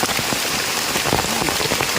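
Heavy rain pours through the forest near Mae On, Chiang Mai, during a mushroom hunt, a loud, close, continuous patter of drops with no talking.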